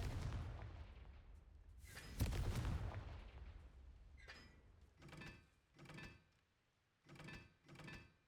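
A Confringo blast spell cast in a video game makes a heavy rumbling explosion that swells and fades over a few seconds, followed by a series of shorter, softer thuds.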